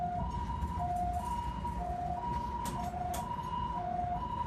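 An ambulance siren in Taipei wails in a steady two-tone alternating pattern, loud and near over road traffic noise, with no talking.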